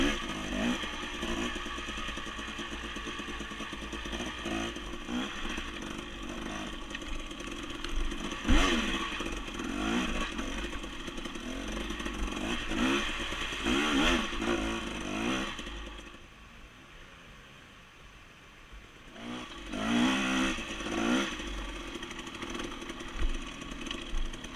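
A dirt bike engine revs and bogs in second gear on mountain trails near Sun Valley and Stanley, Idaho, its loud rasping exhaust rising and falling in bursts, with a brief quieter lull before the throttle picks up again.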